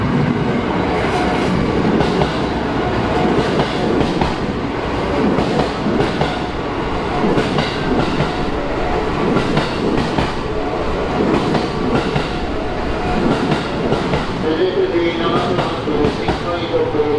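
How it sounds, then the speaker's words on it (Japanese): A JR West commuter train pulls into a busy Osaka Station platform during the evening rush, with loud continuous rumbling, rail clatter and faint wheel squeal, under crowd noise and platform announcements. "たまたま今電車入っております。"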